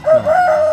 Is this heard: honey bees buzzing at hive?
no